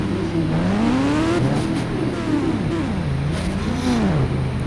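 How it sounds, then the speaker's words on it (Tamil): A scooter's engine hums steadily and revs up and down as it pulls away, the whine rising and falling several times at close range with no talking. "நம்ம ஸ்கூட்டியை போட்டு நம்ம போகலாம்."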